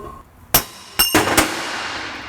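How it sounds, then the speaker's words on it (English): A hammer strikes metal as a bearing race is knocked out of a Ford 8.8 axle part, giving three or four sharp, ringing clangs close up within about a second, with no talking. "Just gonna knock the race out from the inside here."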